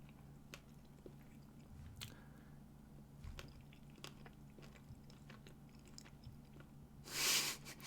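A person chews food close to the microphone, quiet soft bites and squishy mouth sounds spread irregularly over several seconds, ending in a brief louder rustle.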